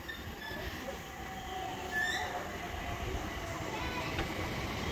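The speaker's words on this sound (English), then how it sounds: "Ya, ini kereta kita udah datang." A passenger train pulling into a station, its low rumble and rolling wheels filling the scene with faint brake squeals over the top, steady and fairly close throughout.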